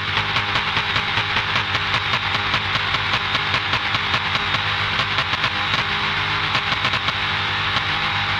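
Car engine in Car Mechanic Simulator 2021 held at full throttle, a loud, steady, droning roar that sustains unbroken with no talk over it.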